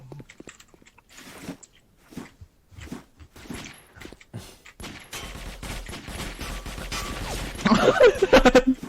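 Gunfire from the online shooter Sudden Attack: at first scattered single shots, then denser bursts and rapid fusillades building louder toward the end.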